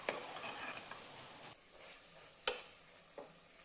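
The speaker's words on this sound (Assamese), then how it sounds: "মাংসখিনি মই এনেকৈ কণ্টিনিউ ভাজিয়ে আছোঁ" Goat mutton frying in oil inside a pressure cooker for mutton curry, heard as a soft, close sizzle. Faint scraping from stirring and a couple of sharp metallic clinks of a utensil against the pot cut through it.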